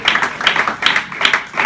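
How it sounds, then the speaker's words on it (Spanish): A church congregation applauds in rhythmic unison, with steady pulses of clapping repeating evenly at moderate loudness. "¿Por qué no le damos un aplauso a Jesús en esta hora?"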